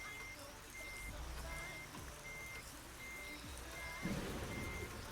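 Big truck in American Truck Simulator, steady, evenly spaced reversing beeps repeating over a low engine rumble, fairly quiet throughout with a brief louder thump near the end.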